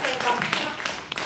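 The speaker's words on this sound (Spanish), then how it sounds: "Pues damos un aplauso y gracias a Joseba" Audience applause at a talk about the Ecuadorian Amazon, a short, soft burst of scattered clapping with some voices mixed in.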